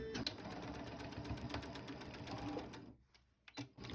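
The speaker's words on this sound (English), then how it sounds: "stitch across to box the corner" Sewing machine stitching across the boxed corner of a fabric zipper pouch, a steady, close mechanical whir that runs for almost three seconds, then stops and leaves a few soft handling clicks.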